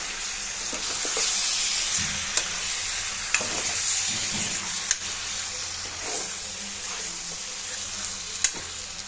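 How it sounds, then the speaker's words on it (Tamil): One kilogram of washed chicken sizzles and fries steadily in hot oil in a pan while being stirred, with a continuous loud hiss and occasional sharp clicks of a utensil against the pan. "கழுவி சுத்தம் பண்ணி வச்சுக்கிற ஒரு கிலோ சிக்கனை வந்து இதில் சேர்த்துக்கலாம் சேர்த்துட்டு நல்லா நம்ம எண்ணெயிலே கலந்து விடலாம்"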